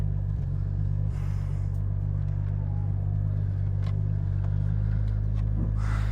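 A Nissan S15 Silvia with a 2JZ engine swap and an 8HP70 automatic gearbox idles and rolls slowly, a steady deep engine rumble heard from inside the cabin, with a few faint clunks and rustles on top.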